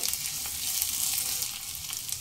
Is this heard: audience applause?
no